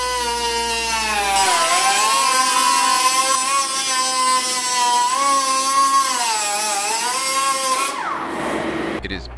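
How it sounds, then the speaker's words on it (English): A cutoff saw cuts through a fiberglass trailer wall panel with a loud, close, high whine that rises and dips in pitch as the blade bites, then winds down near the end. "You can use a cutoff saw to make the cut."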